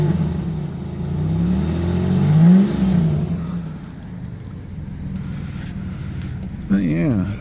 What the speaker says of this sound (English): you gotta do 3 revs for Dale.